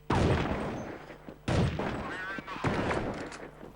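Sharp gunshot bursts from a Counter-Strike 1.6 tournament match, with a few loud shots spaced through a short stretch and a commentator talking over the game audio.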